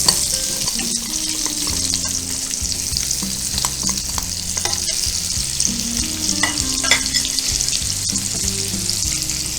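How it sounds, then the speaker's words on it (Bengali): Potatoes lightly frying in a pan for egg prawn biryani, a steady close sizzle with soft stirring scrapes running throughout, no voices. "আলুগুলো একটু হালকা করে ভেজে নিচ্ছি।"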